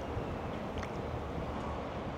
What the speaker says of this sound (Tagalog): Medyo malakas ngayon ang hangin